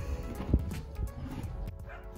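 Dogs barking at an outdoor horse eventing show, a few short barks and yips over a busy, murmuring background.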